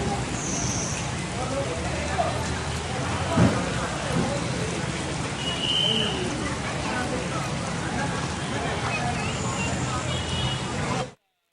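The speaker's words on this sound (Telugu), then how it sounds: "హైదరాబాద్ నగరంలో భారీ వర్షం కురుస్తోంది." Heavy rain falls across Hyderabad city streets, a continuous hiss of downpour with a brief rumble partway through and a news voice talking over it, ending abruptly.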